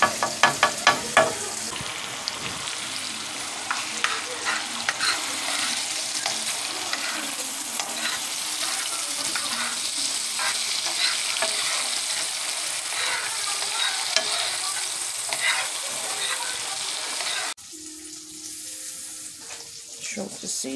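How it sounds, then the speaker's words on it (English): Shrimp and garlic sizzle and fry in a pot, a dense steady crackling hiss with occasional stirring clinks, close and continuous before suddenly quieting near the end. "I'm about to add these shrimps to the pot."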